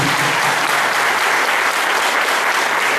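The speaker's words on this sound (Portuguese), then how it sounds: "dá uma salva de palmas para Jesus" A congregation at a church service claps for Jesus, producing a dense, loud, continuous wash of applause that fills the whole moment evenly with no letup.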